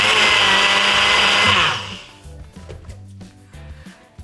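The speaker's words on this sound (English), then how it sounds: "The next thing to do is blend our 100 grams of oats." An electric blender grinds 100 grams of oats with a loud, steady, close whir for about a second and a half, then cuts off, leaving quieter clatter and low hum.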